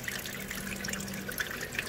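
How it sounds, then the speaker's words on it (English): Flood coolant sprays and splashes steadily inside a surface grinder's table guards, a continuous hissing, trickling wash of liquid with no break and no voices. "Any coolant that splashes on the column goes into those troughs"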